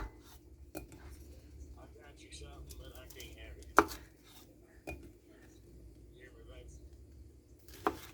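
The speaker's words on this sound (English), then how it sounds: "So now I'm just going to sit here and cut them all in half" A knife halving Brussels sprouts on a cutting board, with a few sharp chops standing out over soft kitchen background noise and some quiet talk.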